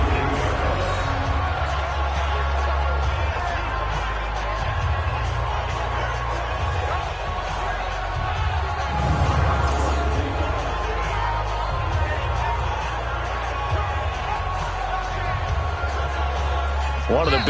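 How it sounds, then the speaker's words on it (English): A stadium crowd at a football game roars steadily ahead of a big third down late in the fourth quarter, a dense continuous wash of cheering and babble filling the whole stretch with no single voice standing out. "the crowd getting into it as we come up on a big 3rd down"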